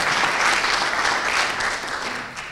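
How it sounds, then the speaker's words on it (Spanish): Dense, warm applause from a concert audience at a big band performance during the IV Trom Festival, a continuous wash of many hands clapping that holds steady before easing slightly at the end. "Un aplauso, señor."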